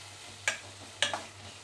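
Gongura curry with salt and turmeric is stirred in a pan, giving two or three sharp spoon scrapes over a soft background sizzle.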